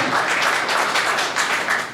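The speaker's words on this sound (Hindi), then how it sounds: "तालियां थोड़ी सी कमजोर है आपकी।" An audience claps steadily for about two seconds, a dense, even wash of many hands that holds at a fairly loud level throughout.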